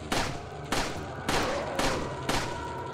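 Repeated gunshots from a firearm in the video game Resident Evil 4, five loud sharp blasts spaced roughly every half second, each trailing into a brief ringing decay with no talk over them.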